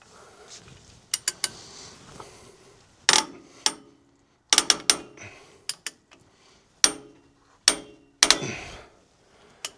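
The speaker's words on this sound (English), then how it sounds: "I think that's the wrench, but that does not sound right." Wrench work on the hydraulics of a Hitachi EX120-2 excavator: sparse, sharp metallic clicks and clanks in irregular bursts, close and fairly quiet, with silences between.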